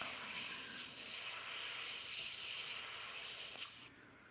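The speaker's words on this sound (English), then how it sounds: "It's not a paint gun, it's an airbrush." An airbrush fed by a compressor at about 15 psi sprays paint onto a Monogram Typhoon model, a steady close airy hiss that swells and eases in bursts before cutting off abruptly.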